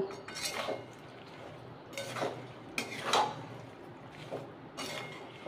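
A spoon mixes ground roasted spices into a chilli and garlic pickle, producing a handful of faint, brief scraping strokes against the bowl over a quiet background.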